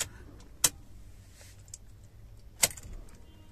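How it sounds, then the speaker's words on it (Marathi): A car key turns in the ignition to switch it on, giving two sharp metallic clicks and jingles about two seconds apart against a quiet cabin background. "ही आपली की आहे, ही ऑन केली"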